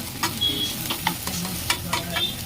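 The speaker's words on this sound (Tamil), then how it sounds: "நல்லா ஒரு வதக்கு வதக்கணும் வெங்காயம் பொன்னிறமாக வர வரைக்கும் வதக்குங்க" Onions sautéing in oil in a pan, with steady soft sizzling and occasional stirring scrapes and light clinks close by, no talking.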